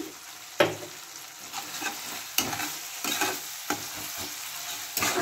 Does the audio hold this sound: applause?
no